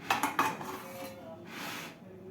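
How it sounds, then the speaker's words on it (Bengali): Freshly washed metal dishes and pots are lifted off a drying rack, starting with a few sharp clanks and clinks at close range, then fading to soft handling sounds, with no talking. "তো বাসন কোসন সব ধুয়ে এতে উপর করে দিই"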